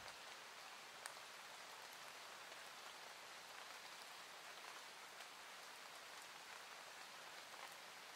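Steady rain falls in an even, continuous hiss of drops, soft and fairly quiet throughout, with no voices.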